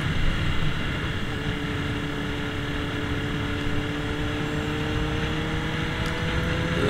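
Motorcycle riding through downtown Minneapolis, a steady engine drone with road and wind noise holding level throughout, no talking.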